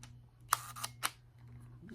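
A Kodak Medalist II camera shutter fires with a few crisp, quiet mechanical clicks close by in an otherwise hushed room.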